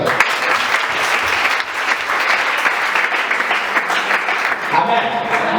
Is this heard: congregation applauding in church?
yes